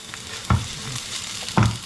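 Onion drops into hot oil for a milkfish tocho and is sautéed, giving a steady close sizzle with two heavy stirring scrapes about a second apart and no voices.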